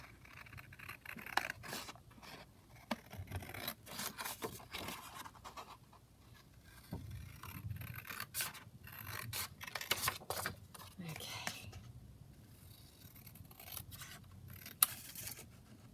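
Scissors cut out a paper craft piece, giving soft, close snips and rustling paper in irregular bursts with small gaps between cuts, the sound fairly faint throughout.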